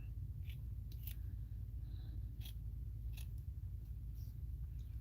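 Scissors snip through fabric to cut out a small 2-inch square for a junk journal craft: a few quiet, sharp clicks scattered over a steady low hum, with no talking.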